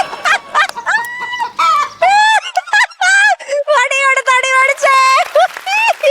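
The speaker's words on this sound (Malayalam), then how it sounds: "അയ്യോ, അതാ ഉണ്ട് കോഴി." A chicken clucks repeatedly in short, bright, rhythmic bursts close by, with voices talking in the background.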